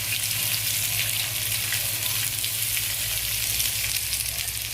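Cashews and masala ingredients roasting in a little oil on a hot tawa over low flame give a steady, close, even sizzle that runs without pause and with no voices.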